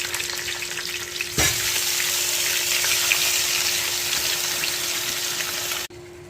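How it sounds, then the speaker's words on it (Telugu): Tamarind juice pours into a pot of fish curry cooking with okra, a loud steady sizzling rush that starts abruptly and holds for several seconds before cutting off. "అదిగోండి చింతపండు పులుసు వేసుకుంటున్నామండి"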